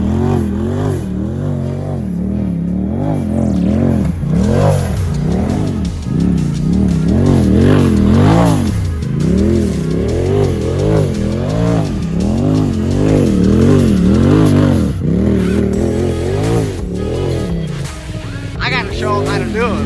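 2019 Razor Turbo XP side-by-side, rebuilt after a wreck, revving hard and driving through mud in repeated rising and falling engine surges, close and loud, with voices underneath.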